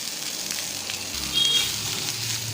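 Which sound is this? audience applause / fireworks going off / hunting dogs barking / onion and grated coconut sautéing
onion and grated coconut sautéing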